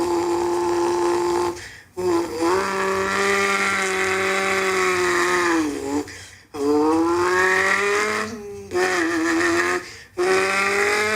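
A Honda Civic drives along with a steady engine tone that rises and falls through several gear changes, broken by short dips as it shifts, heard from inside the car.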